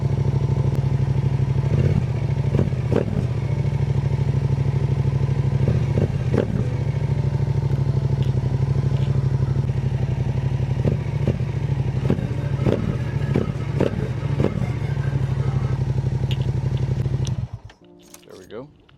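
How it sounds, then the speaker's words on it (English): A Yamaha R7 motorcycle idles steadily close by for a long stretch, with a few quick throttle blips and clattery mechanical ticks over the rumble before the engine cuts off near the end. "give it a couple blips of the throttle just to run it through the system"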